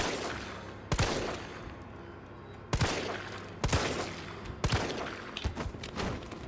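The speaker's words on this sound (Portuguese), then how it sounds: "Nossa, o barulho da arma tá sensacional, galera." Gunfire in the Resident Evil 3 Remake demo: four or five sharp, punchy shots spaced a second or so apart over a low ambient background, each with a short echoing tail.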